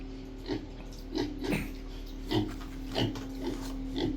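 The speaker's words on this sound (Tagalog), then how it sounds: "Ito po yung baboy natin, oh, bagong ligo." A pig grunts in short, low snorts at a steady pace, close and moderately loud over a faint background hum.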